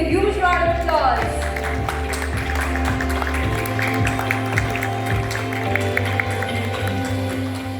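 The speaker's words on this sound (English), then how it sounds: "Everyone, please give a huge round of applause." Audience at a jury event stage ceremony breaking into applause, steady clapping under music and background talk, moderately loud and sustained.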